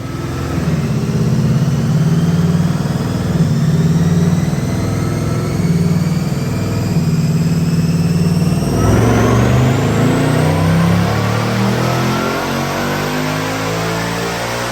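The supercharged engine of a 2024 Roush Mustang roars loudly on a dyno, climbing steadily in pitch with a rising supercharger whine, then peaking and dropping back near the end.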